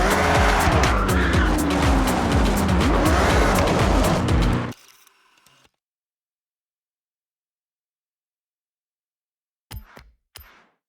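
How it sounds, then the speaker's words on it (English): A car in Forza Horizon 6 brakes hard, with loud engine roar and squealing tires for about five seconds, then cuts off abruptly into near silence, broken only by a couple of faint short sounds near the end. "Bring the car to a stop and frame it up."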